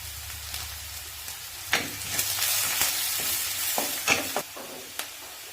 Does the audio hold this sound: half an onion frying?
yes